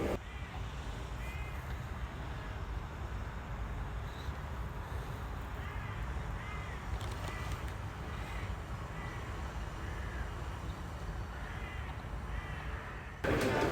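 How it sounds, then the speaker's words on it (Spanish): Constant busy chatter of many small birds outdoors, a dense overlapping twittering with some louder harsh calls, steady and close throughout with a faint low rumble underneath. "vaya bullicio de pajaritos, esto es un sin parar."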